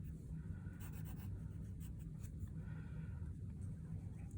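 Pencil scratches across paper while an egg-shaped drawing is finished, the faint, steady scribbling strokes close and quiet over a low background hum.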